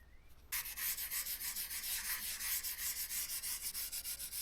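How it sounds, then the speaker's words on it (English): Wet and dry sandpaper rubbing by hand over car paintwork primed and top-coated, a steady rhythmic scratching of quick back-and-forth strokes, close and continuous, starting abruptly after a brief quiet moment. "I noticed a few little high spots on this paintwork. So, just got a little sheet of wet and dry."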